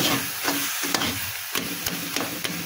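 Red amaranth leaves are stirred and fried in a pan after a sprinkling of rice flour, with a steady sizzle and a few sharp spatula taps against the pan.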